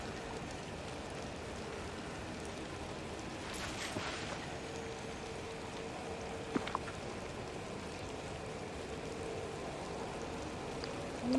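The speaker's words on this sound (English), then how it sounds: "I like the rain." Steady soft rainfall patters in the Disney Dreamlight Valley video game, a continuous even hiss with a few faint clicks, heard alone without talking.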